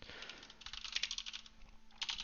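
Quick clattering keystrokes on a computer keyboard while entering code for an Azure template, an even run of light, close clicks with a brief pause near the end and no talking.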